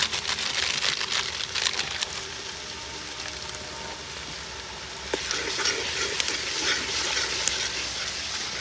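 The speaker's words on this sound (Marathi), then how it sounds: "मसाल्याची फोडणी देऊन घेतलेली आहे" Steady sizzling of spices tempering in hot oil for a mutton party meal, a continuous bright crackle with occasional stirring clicks, close and fairly loud.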